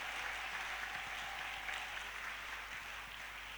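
A church congregation applauds to acclaim the Lord, steady, even clapping from many hands at a moderate distance that holds without a break.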